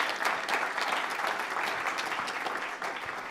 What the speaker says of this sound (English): round of applause for Corbin